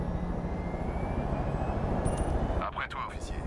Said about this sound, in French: ça ressemble énormément à mon hélico